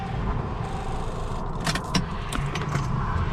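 Key clicks and jangling inside a Lexus SC300 with a dead battery, a few short sharp rattles and clicks close by over a steady low cabin hum.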